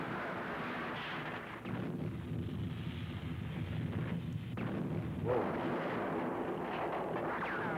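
Gunfire in the Japanese monster film Gamera comes across as a dense, continuous rumbling barrage of distant shots and blasts, wind-like and loud throughout, with no clear speech.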